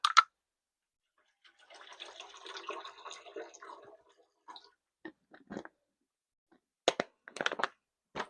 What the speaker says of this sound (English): Getting the water in this pan, we're going to go ahead and do us some rice